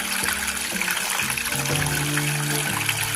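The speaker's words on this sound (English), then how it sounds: "That water's just ripping." Water rushes steadily and loudly through a DIY clean-up sluice during black sand recovery, a dense continuous gush and churn with shifting tonal gurgles and no talk.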